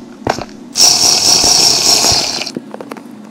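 Minecraft player eating food in a survival game, a loud, steady crunching, munching sound lasting under two seconds, with light clicks before and after.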